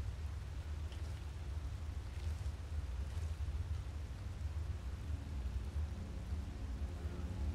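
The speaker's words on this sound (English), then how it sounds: "Rain coming from the outside." Steady rain in the video game Skyrim hisses without pause, with a low rumble underneath and a few faint crackles, no voices.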